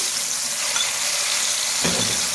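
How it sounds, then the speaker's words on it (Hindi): Cumin seeds and ginger garlic paste frying in a karahi for chicken karahi, a loud, even hissing sizzle that runs throughout, with a brief stir or scrape near the end. "ज़ीरे के साथ ही हम फ्राई कर लेंगे"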